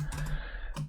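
Short burst of typing on a computer keyboard during a Business Central coding session, a few soft, close clicks in quick succession.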